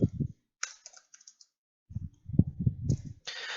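Computer keyboard typing in short clustered bursts of clicks separated by pauses, close and clear in a quiet room, with no speech.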